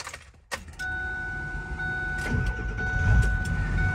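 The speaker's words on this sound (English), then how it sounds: "let's hop inside and start this thing up" Keys jangle, then the 7.3L Powerstroke diesel in a 2001 Ford Excursion cranks and starts, settling into a steady, fairly quiet idle with a soft whine inside the cab.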